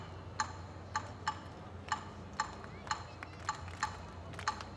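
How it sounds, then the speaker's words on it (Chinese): Zhao Guiming strikes claves in a Cuban clave rhythm at the Taichung Jazz Festival, producing crisp, dry wooden clicks in short repeating groups, clear and evenly spaced over a quiet room hum. "所以我们请赵桂明老师来演奏 clave 给大家听"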